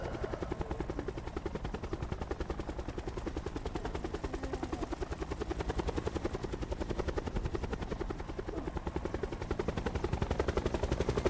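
A helicopter flies in the video game Call of Duty Blackout, its rotor producing a fast, even thumping chop at low, steady volume that continues throughout with no talk.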